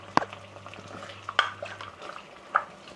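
Massaman curry paste being stir fried in a pan, with sparse scraping stirs and a few distinct clinks of utensil on pan over a quiet background.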